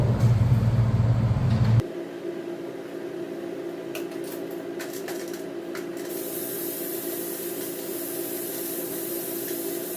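Spray gun painting a 1964 Cadillac Sedan Deville in a shop, a loud broadband rush at first that drops to a steady hiss with an underlying hum, continuous for ten seconds, with a few faint clicks and no talking.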